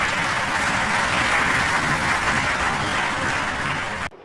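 An audience applauds a speech by Modi, dense sustained clapping from a large crowd, loud and even, cutting off abruptly near the end.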